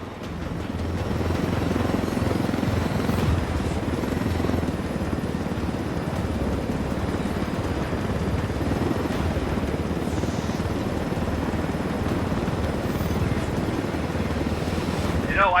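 A video game helicopter flies with a steady, near rotor chop and engine drone that holds for the whole stretch and swells slightly near the end.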